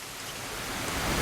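A rain sound effect for a cartoon, a brief wash of steady rainfall hiss that swells slightly louder toward the end, with no voices.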